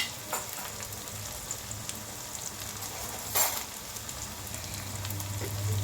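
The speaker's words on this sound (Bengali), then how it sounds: "এবার আঁচ বাড়িয়ে দিলাম যাতে পেঁয়াজটা ভাজা ভাজা হয়" Onions sizzle softly in a pan over high heat, a steady, fairly quiet crackling hiss with a louder spattering flare partway through and a low hum underneath. No one speaks.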